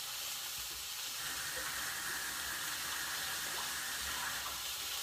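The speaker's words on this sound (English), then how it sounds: "I'm gonna wash my hands before I pick up the camera" A kitchen tap runs steadily as hands are washed, giving a constant hiss of splashing water at close range with no voices.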